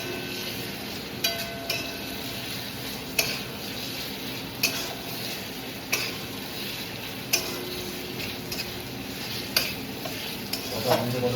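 About a kilogram of chicken frying with ginger in a pan: a constant low sizzle broken by regular clinks and scrapes of a spoon stirring, close and without talk.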